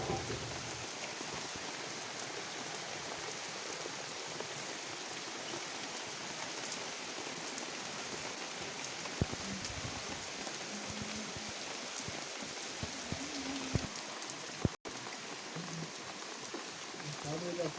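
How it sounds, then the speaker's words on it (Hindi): Steady rain falls and patters on surfaces outdoors, a constant even hiss with occasional louder drops, while people talk faintly in the background. "वर्षा हो देखिले तो केनता वर्षा हो"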